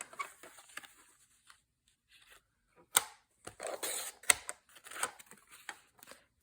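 Scissors snip through a folded, creased piece of scrap cardboard for a small handmade journal, a few crisp close cuts and rustles separated by quiet pauses.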